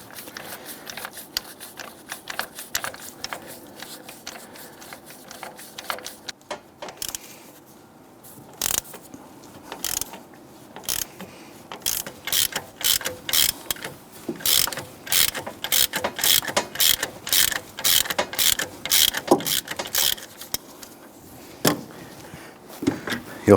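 A ratchet tightening the bolt of a harmonic balancer puller on a 1999-2004 Jeep Grand Cherokee 4.7L V8, sharp rhythmic clicking in repeated bursts that speed up and grow louder over time, heard up close.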